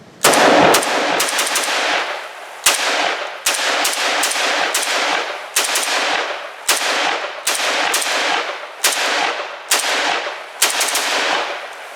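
Bursts of rapid automatic gunfire from a SIG 550 / PE90 rifle, loud and close, come in about ten separate strings of shots with short pauses between them.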